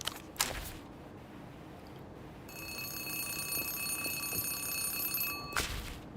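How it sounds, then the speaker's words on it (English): An old telephone rings in the video game Zero Parades, a steady electronic bell tone sustained for about three seconds over a low hum, clear and close, framed by brief bursts of noise before and after. "a phone begins to ring."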